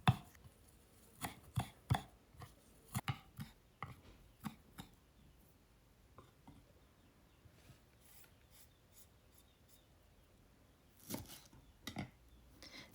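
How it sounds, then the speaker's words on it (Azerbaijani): Knife chopping a bunch of freshly picked garden mint on a board: bursts of close, sharp taps in quick runs, pausing midway and resuming with a brief cluster near the end, with no voices. "Bir dəstə həyətdən yığdığım nanəni də doğrayıram."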